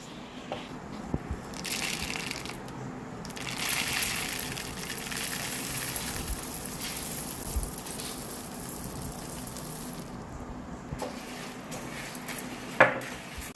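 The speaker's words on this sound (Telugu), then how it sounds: "ఇప్పుడు మనం వంద గ్రాములు ధనియాలు వేసుకుందాం" Coriander seeds and broken cashews dry-roasting in a pan for a homemade chicken curry masala, giving a steady rustling, scraping clatter of stirring with occasional sharp utensil clinks against the metal, close and continuous with no talking.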